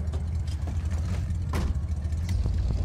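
A car engine idles in the Mad Max video game, a steady low rumbling drone throughout with slight fluctuations, fairly close and without speech.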